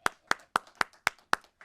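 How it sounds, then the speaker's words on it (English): Six crisp, evenly spaced handclaps at an annual meeting, close and distinct, in a quiet room with no crowd behind them. "please give them a round of applause"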